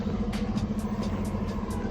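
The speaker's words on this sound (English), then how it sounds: "Made it back to the bus." A bus sits close by with its engine droning steadily at idle, a low rumble with a faint periodic ticking above it and no talk.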